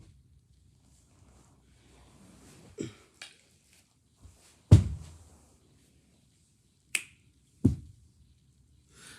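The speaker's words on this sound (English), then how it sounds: "Oh, you don't snap your fingers." Fingers snap several times at irregular intervals, each a sharp, dry, isolated crack followed by silence, over a faint breezy rustle.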